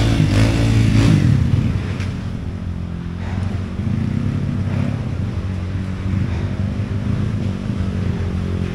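A Kawasaki KLX 140 RF dirt bike, carburetor and exhaust still stock and feeling sluggish, rides a trail with a steady, loud low engine drone that surges near the start, then holds fairly even throughout.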